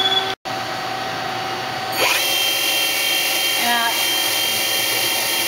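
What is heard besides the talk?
Citizen L2016 CNC Swiss lathe subspindle running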